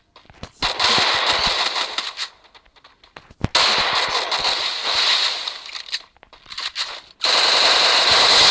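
Bursts of automatic gunfire in the shooter game Free Fire MAX during a one-on-one custom match, coming in three loud sustained volleys separated by brief pauses.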